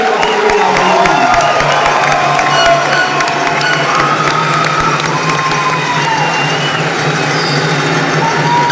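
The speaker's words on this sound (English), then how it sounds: "Please join me in a round of applause for all our outstanding senior non-commissioned officers." At a military award ceremony honoring senior non-commissioned officers, a large crowd cheers and applauds loudly and continuously, a sustained roar of voices and clapping with a faint tonal hum running underneath.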